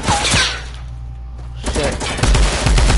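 Sniper and other gunfire in an online shooter game, a few sharp loud shots at the start and a denser burst of rapid fire toward the end.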